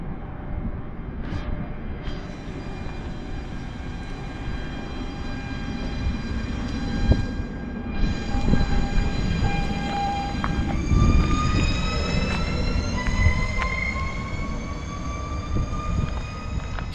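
A Régiolis train pulls away from Bréauté-Beuzeville station, its engine rumble and rising whine building with sustained tonal squeals and clanks, loud and close, steady throughout.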